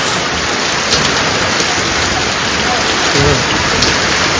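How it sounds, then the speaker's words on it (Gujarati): Very heavy rain pours down on the streets of Gariyadhar in a dense, loud, continuous roar, with a voice speaking faintly underneath. "અતિ ભારે ભારેથી અતિ ભારે વરસાદ છે ગારિયાધામમાં"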